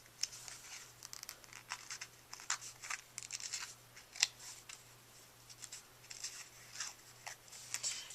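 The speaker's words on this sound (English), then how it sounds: "push your fingernail along the side, like that, and basically you're just tearing up the edge" A fingernail pushes along the side of a sheet of paper and tears up its edge during a papercraft technique, giving soft, close, scratchy rips and crinkles in uneven bursts with no talking.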